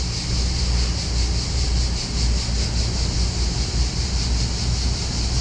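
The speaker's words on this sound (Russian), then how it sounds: "Это что, какие-нибудь цикады или как их тут еще называют?" Cicadas drone in trees on the French Riviera, a continuous loud high-pitched buzz with a fast, even pulsing over a low background rumble.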